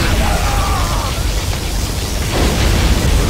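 Particle cannon blast in Command & Conquer: Generals, a loud, continuous roaring rumble of explosive noise filling the whole clip without a break.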